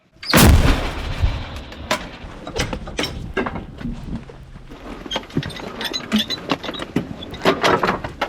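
American-made artillery gun operated by a Ukrainian police brigade firing one loud, sharp blast with a booming low tail, followed by metallic clanks and mechanical knocks of the gun being worked.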